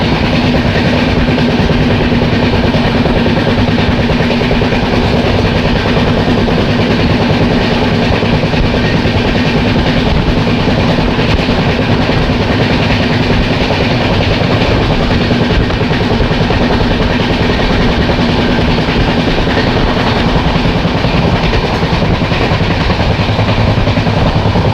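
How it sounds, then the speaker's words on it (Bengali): Inside the New Delhi–Malda Town Express running at speed, a loud, constant roar of wheels and carriage rumble carries a steady droning hum and faint rhythmic clatter for the whole stretch, with no voices. "বেশ ভালো স্পিডে চলছে গাড়ি।"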